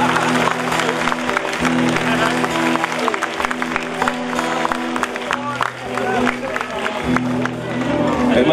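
An audience at a comedy show claps loudly and steadily while voices carry on over the applause.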